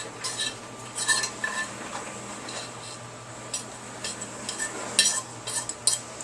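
Meat being added to a pan and stirred with a utensil, giving scattered clinks and scrapes of metal against cookware over a steady low hum, with no talking.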